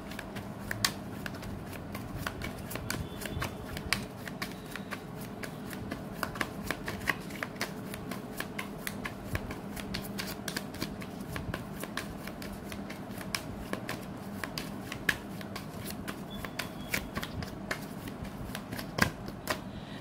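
Tarot cards being shuffled continuously, a steady fast riffle of soft papery slaps and clicks, close and fairly quiet, with no voice over it.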